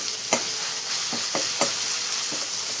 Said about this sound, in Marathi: असं मस्त मिक्स करून घेणार आपण टमाटर आणि कांदा मसाला